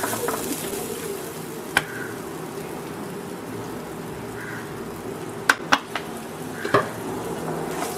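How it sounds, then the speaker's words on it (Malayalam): Grated coconut roasts in hot coconut oil for a pumpkin erissery, giving a faint, steady sizzle. A few sharp clicks and scrapes of stirring break through it. "നല്ലൊരു ബ്രൗൺ നിറമാവുന്നത് വരെ വറുത്തെടുക്കണം."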